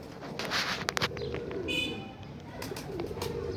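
A fancy pigeon coos in low, rolling murmurs nearby, with light handling noises and a few faint chirps from other birds behind.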